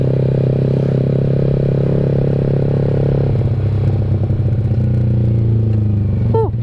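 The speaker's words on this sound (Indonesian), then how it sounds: "Ini pakai knalpot Extreme Project yang baru SC Project baru ini, jadi suaranya masih agak empuk-empuk, gak jeber banget gitu loh bro." Yamaha R15 V3 motorcycle fitted with an SC Project exhaust, a loud steady engine drone close by that shifts in tone partway through as the revs change, with a faint brief chirp near the end.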